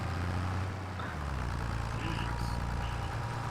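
Tractor engine labouring up a hill in the farming game Farming Simulator 25, a steady low droning rumble that shifts pitch around the one-second mark and then holds a loud, continuous strain.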